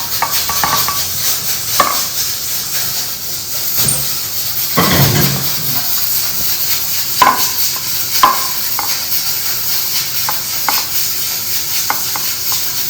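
Kaleji, goat or lamb liver, heats in a pan with a soft steady sizzle while a utensil stirs and scrapes the metal in irregular clinks and knocks, close and fairly loud.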